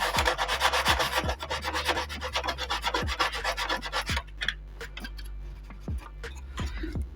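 Wooden bulwarks on a model of the San Felipe ship are hand-sanded with rapid back-and-forth rasping strokes, close and even, easing off briefly partway through before resuming.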